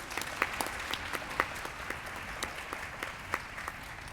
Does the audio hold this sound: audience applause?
yes